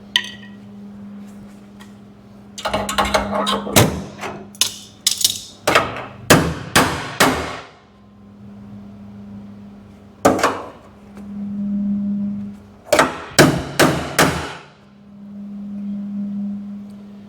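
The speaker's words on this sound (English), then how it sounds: "If all else fails, use your pry bar as a hammer." Loud metallic strikes of a pry bar used as a hammer on a 1973 Ford F100's rusty body metal come in bursts, with single blows and quick rhythmic runs, separated by a steady low hum.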